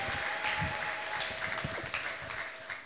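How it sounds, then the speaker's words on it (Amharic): A church congregation applauds at a testimony and thanksgiving service, with steady dense clapping throughout and a sustained high ululation running over it. The sound is loud and crowd-wide, with faint voices mixed in. "እልልታ ጭብጨባችሁ ከፍ ይበልስ"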